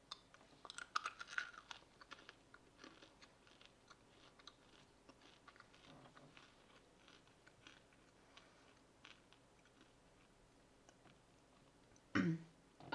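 Crunchy food from an 18-year-old 2004 MRE ration being chewed, faint irregular crunches scattered throughout at close range, with a louder burst near the end.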